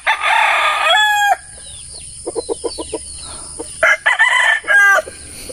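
Roosters crow loudly and close by, one long cock-a-doodle-doo at the start and another near the end, while chickens cluck in short bursts between them.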